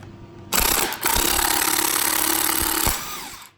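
Impact wrench driving the long bolts of a puller on a GM steering wheel, one loud sustained rattling burst of roughly two and a half seconds with a brief dip near its start, close up.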